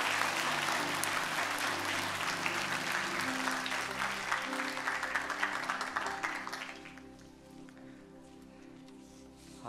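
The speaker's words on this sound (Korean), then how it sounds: "우리 큰 박수로 우리 아이들을 축복해 주시기 바랍니다." A church congregation at a Sunday service gives big applause to bless the children, broad sustained clapping that fades after about six seconds into a quiet room hum.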